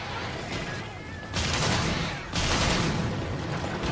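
A bowgun fires in Monster Hunter 3 Ultimate, with bursts of rapid gunfire layered over a continuous game soundscape; two heavy volleys start in sequence and keep a dense, loud rattle going.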